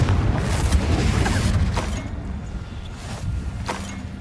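A Confringo fire spell blasts in the Hogwarts Legacy video game, a sustained low rumbling boom that rolls on for several seconds with faint crackling bursts, loud and full, no voices.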